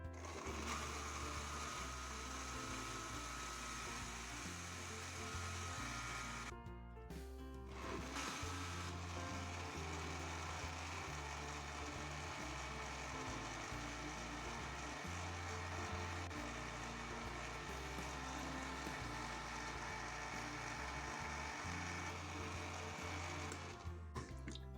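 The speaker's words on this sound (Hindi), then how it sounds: "इसको ब्लेंड करते हैं" A kitchen blender whirs steadily, blending banana and peanut butter with milk into a milkshake, with a brief pause partway before the motor runs again, loud and close throughout.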